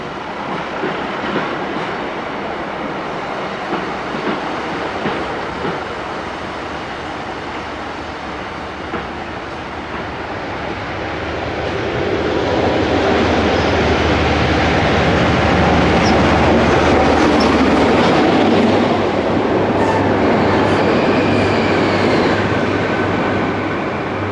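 Train at a railway station platform rumbling and clattering, moderate at first and then swelling louder midway as wheels and carriages roll past, with faint high squeals toward the end and no talking.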